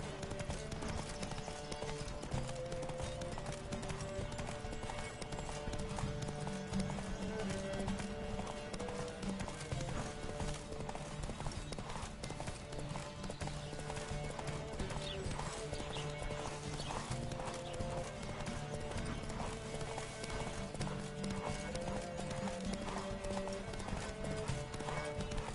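A horse gallops in The Witcher video game, its steady clip-clop hoofbeats continuous and loud over a dense game soundscape, with an occasional whinny and faint voices.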